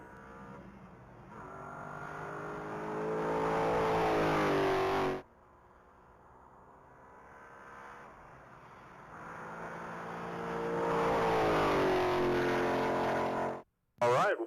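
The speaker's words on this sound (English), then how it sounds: "Mark Griggs is making his way down the mile. That's a green 2019 Ford Mustang" A green 2019 Ford Mustang racing down the mile at the Texas Mile speed event, engine revving up through two long pulls broken by a gear change, loud and sustained, cut off briefly near the end.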